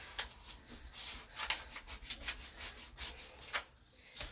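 A small scraper rubbed firmly over vinyl letters to seal them down, making a series of close, quick, rhythmic scratchy strokes with short pauses, with no talking.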